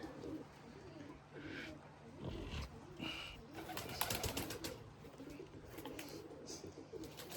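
Limoni breeding pigeons coo softly in a loft, with low repeated coos and faint wing and shuffling sounds, heard fairly quietly and close with no one speaking.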